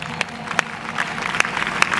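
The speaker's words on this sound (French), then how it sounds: "Acclamez très fort." Church congregation applauding during an evening worship service, scattered claps rising to a few sharper peaks over a steady low room murmur, moderately loud and brief.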